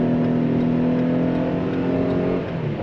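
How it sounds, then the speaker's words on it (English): A 2022 Chevrolet Traverse LT accelerating up a freeway on-ramp toward highway speed, heard from inside the cabin as a steady, loud engine drone with rising tonal harmonics and road noise, no talking. "Now we are going to make our way onto the freeway, get this thing going at 70 miles per hour."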